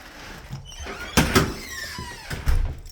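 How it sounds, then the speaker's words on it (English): A very heavy building entrance door is unlocked with a key and hauled open, with several dull thunks and a low rumbling creak, close by and fairly loud. "this door weighs a freaking ton"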